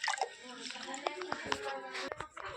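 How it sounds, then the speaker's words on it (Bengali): Cut pieces of food are washed by hand in water: quick splashes, drips and squishy sloshing, close and fairly soft, with a voice talking over parts of it. "দেখো এই যে ধুচ্ছি।"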